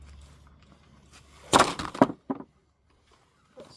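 A hairdryer being smashed apart by hand, giving a burst of loud cracking and clattering impacts over about a second, then a couple of smaller knocks before quiet.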